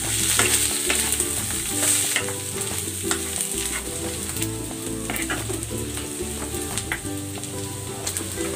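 Pork sizzles and fries with onions in a pan, a steady close crackle broken by stirring clatter, with no talking.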